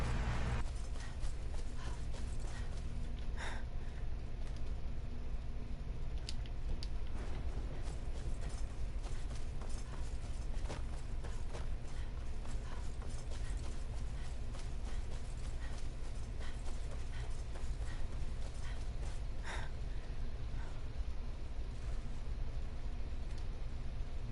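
Steady horse hooves clip-clop in the video game Skyrim at a continuous rhythm over a low rumbling background, with occasional clanks, heard close without any talking.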